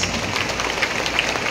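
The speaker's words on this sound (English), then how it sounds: "let us give the graduates a big round of applause" A graduation crowd at Palawan State University applauds the 2024 graduates, a steady, dense wash of clapping from many hands with no voices on top.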